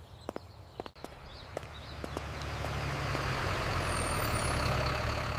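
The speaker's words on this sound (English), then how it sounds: "The bus is here." A school bus arrives on the first day of school, a heavy engine rumble swelling steadily louder as it approaches, preceded by a few sharp clicks and taps.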